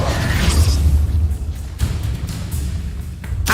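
Incendio fire spell cast in the Hogwarts Legacy video game, a loud low booming whoosh of flame bursts that keeps rumbling across the whole stretch, with a sharp pop near the end and no talking over it.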